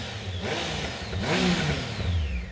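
A previous-generation Triumph Speed Triple motorcycle engine revs up twice in quick succession, rising and falling in pitch, a loud rumbling close by with no talking.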